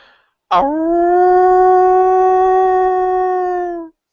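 A man imitates a wolf howl with his voice, one long sustained tonal howl that rises at the start and holds steady for about three seconds before cutting off, loud and close, with no other talk.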